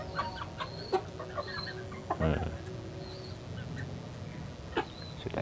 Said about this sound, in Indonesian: Nih ayamnya tuh